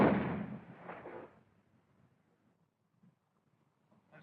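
A gunshot in a 1936 science fiction film, one booming blast that rolls away over about a second into near silence, with faint rustles afterward.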